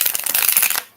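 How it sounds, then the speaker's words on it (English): Quick riffling flutter of tarot cards being shuffled close by, a rapid papery burst lasting under a second before stopping. "I'm going to shuffle those together"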